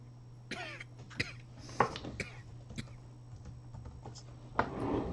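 A person coughs several times in short, scattered bursts, close to the microphone, over a faint background hum with soft keyboard typing between the coughs.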